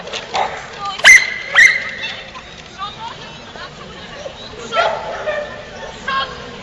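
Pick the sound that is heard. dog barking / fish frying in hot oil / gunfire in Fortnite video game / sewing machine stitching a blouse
dog barking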